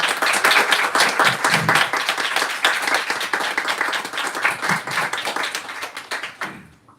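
A loud round of applause from an audience at a spiritual talk, dense steady clapping that holds for several seconds before tapering off.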